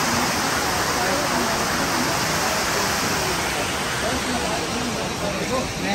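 A waterfall in the hills of Himachal Pradesh gives off a steady, dense roar of rushing water that continues without a break, close and loud.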